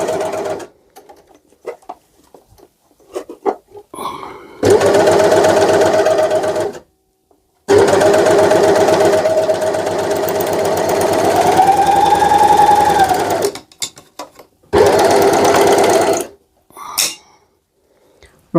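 An overlocker sewing machine gathering fabric runs loud and close in long steady bursts, with short pauses and faint handling noises between runs.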